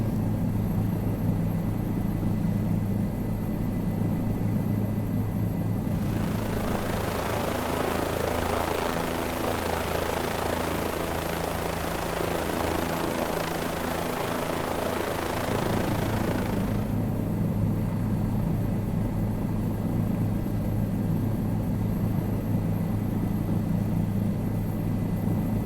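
Aircraft engine droning on landing approach in Microsoft Flight Simulator 2020 near Bora Bora, a steady engine hum that swells into a louder roaring rush for about ten seconds, then settles back to the drone, no talking.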